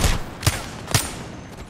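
Three or four sharp gunshots crack out roughly half a second apart in the video game Apex Legends, each a loud, brief blast over a low background hum.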